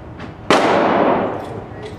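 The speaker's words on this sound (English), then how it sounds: "All right, round 2 of Dave shooting." A single sharp, loud handgun shot from an EMP pistol during outdoor torture-test shooting, fired nearby, with a ringing, echoing tail that fades over about a second.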